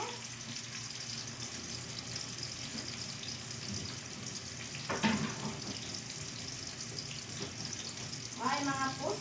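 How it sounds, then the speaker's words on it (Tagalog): Squid and garlic sautéing in a pan, a steady low sizzle with faint clatter and a few sharper clinks or scrapes, close by and fairly quiet throughout. "Igisa ko muna siya para mabango na hindi siya malansa."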